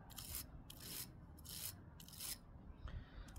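A bristle brush scrubs corrosion off the electrical seat release of a Vespa GTS scooter, quiet rhythmic rasping strokes repeating about once every half second, close up with no talking.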